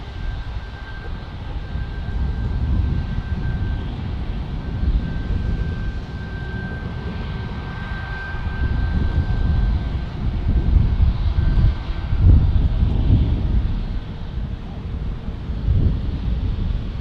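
Airplane passing at San Diego airport, a broad steady engine roar with wind buffeting the microphone, swelling slightly in the middle and holding loud throughout with no talk.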